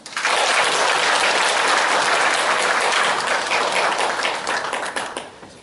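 An audience breaks into applause after a lecture at the Gumi CEO Forum, the clapping dense and sustained throughout, then thinning toward the end.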